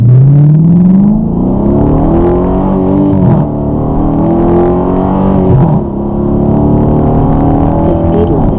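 A Dodge Charger R/T with a mid-muffler and resonator accelerates hard, its engine note climbing steadily through gear changes, loud and droning, heard from inside the car with someone talking over it.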